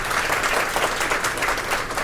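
Sustained audience applause at a Myntra UX live event honouring the organising team, steady dense clapping filling the room at an even level throughout.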